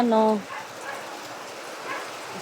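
A single short dog bark up close, followed by quieter murmuring and heavy rain noise falling after a fire.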